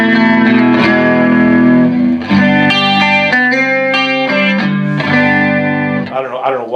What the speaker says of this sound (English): So now we got reverb and chorus